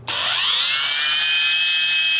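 A high, steady electric whine from a paint polisher gripped too tightly spins up quickly and holds, strained and slightly lower in pitch, continuous for a couple of seconds.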